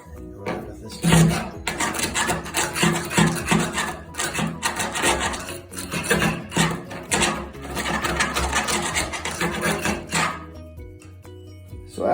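A hand tool scrapes along moldy floor tile edges, producing continuous rasping, scratching strokes in repeated bursts, fairly close and steady with short pauses between passes.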